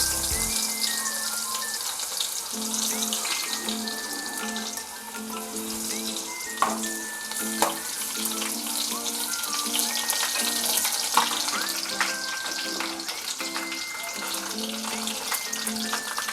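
Garlic sizzles in hot oil in a pot for a Koli-style mackerel curry: a steady crackling hiss throughout, with a musical tone playing softly underneath.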